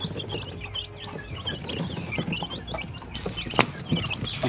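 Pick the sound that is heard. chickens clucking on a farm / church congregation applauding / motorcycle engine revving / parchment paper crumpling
chickens clucking on a farm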